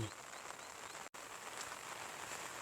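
Light rain falls over rural rice fields in Isan, northeastern Thailand, a steady soft hiss that barely changes, broken once by a split-second gap.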